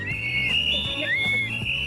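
Shrill whistles blown by protesters near an ICE facility in Portland shriek continuously over a crowded outdoor din, the pitches wavering and overlapping, moderately loud.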